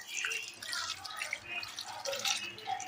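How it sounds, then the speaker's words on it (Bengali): Water poured into a pressure cooker holding jackfruit and a little turmeric, a steady close splashing and trickling that runs continuously and fairly softly throughout. "এবার দিয়ে দেবো এর মধ্যে আমি জল"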